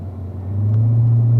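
Corvette Grand Sport cars rolling out at a driving school: a deep, steady engine rumble that swells louder over a moment and then holds as the cars pull away together.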